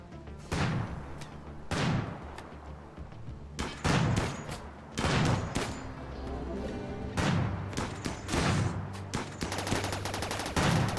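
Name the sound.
gunfire in the video game RimWorld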